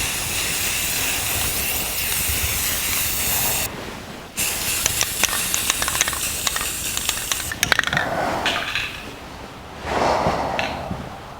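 Compressed air blasts onto the axle housing of a 1982 Jeep CJ7 in a near, loud, steady hiss. The hiss breaks briefly, then comes back with clicks and sprays of varying strength.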